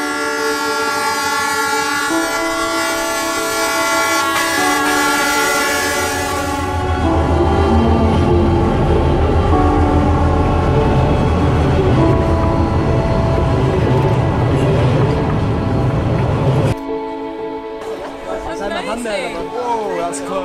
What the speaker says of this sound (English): at certain times of the day a train comes through here and everyone has to get off the tracks